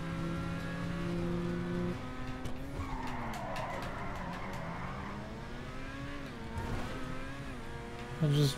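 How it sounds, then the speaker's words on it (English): A car drifts during a time trial in a driving video game, its tires screeching continuously while the engine note climbs and dips across several long skids, loud and up close, with no talking. "I just drifted."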